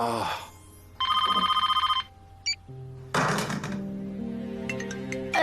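A telephone rings in a drama scene, a loud, close electronic trill lasting about a second, followed by thumps and clatter as it is handled and a second ringing burst, with no talking over it.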